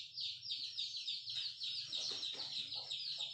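Chickens cluck and chatter, with soft repeated clucks over a dense, high, steady insect-like chirring that persists throughout, close and moderately loud.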